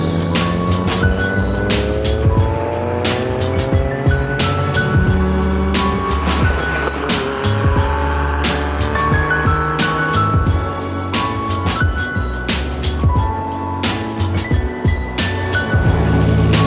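A 660 hp Nissan R32 GTR is driven hard and heard from inside, its engine loud and droning as the pitch climbs and drops through repeated gear changes, with no talking.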